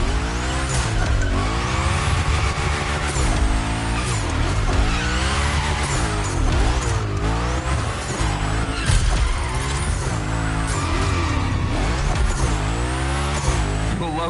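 Tires skidding and squealing during gymkhana slides in The Crew Motorfest, with a loud engine revving and rising and falling throughout, and repeated wavering screeches as the car drifts back and forth.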